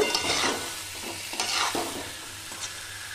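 Pieces of yam and potato are stirred into a sizzling, fried spice paste in a pan. A spoon scrapes and turns them close-up over a steady low hiss of frying, with no voices.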